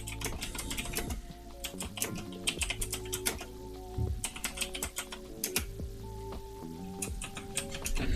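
Computer keyboard being typed on during game development work, rapid irregular clicking of keys in bursts, close and fairly quiet with no speech.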